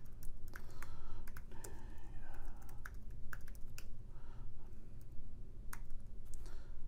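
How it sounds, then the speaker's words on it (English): Steady typing on a computer keyboard, quick irregular key clicks close up, with no voices. "I can just start typing"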